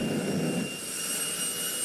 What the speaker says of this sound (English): He's just tapping the afterburner.